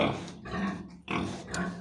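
Piglets grunt and snort up close in short bursts, a busy pen sound with no talking.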